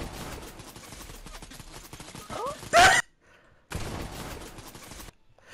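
Rapid bursts of gunfire from another player in a video game rattle steadily, then a louder close burst hits, followed by a pause and a final stretch of shooting, with a voice faintly present.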